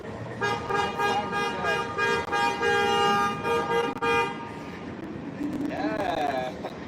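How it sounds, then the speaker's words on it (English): Repeated car horn toots blare in quick bursts over crowd noise and street bustle, then a rising tone near the end. "The honk? The honking was working."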